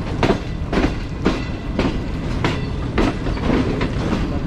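The Green Line Express passenger train runs on the rails near a junction, its wheels beating out a loud, close, regular clickety-clack over rail joints with a constant rumble underneath.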